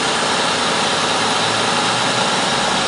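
A 2004 Honda Odyssey engine idling after a spark plug change, a steady, loud, unbroken hum with no other sounds over it.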